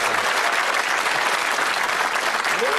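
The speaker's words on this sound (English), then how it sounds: "give him a little cheer." A television darts game show studio audience claps and cheers, a steady, dense burst of applause filling the whole moment with no break.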